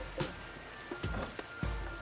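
Rain in the video game RimWorld, a soft steady patter on surfaces with a few brief louder thumps and knocks scattered through, moderately quiet and with no voices.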